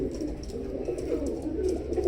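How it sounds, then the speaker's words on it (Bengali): Teddy pigeons, a pure teddy breed kept in a Bangladeshi loft, coo in a steady, low, continuous murmur close by, with several birds overlapping and occasional faint chirps above. "কোয়ালিটিফুল কবুতর দেখেন"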